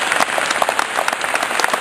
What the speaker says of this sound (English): A big clap for Mike.